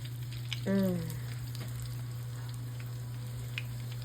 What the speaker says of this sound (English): You can already hear that sizzle and you know it's gonna be good